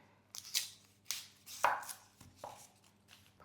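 A knife chops through red onion on a cutting board, with about six or seven distinct, close, crisp strikes landing at an uneven pace against a quiet background.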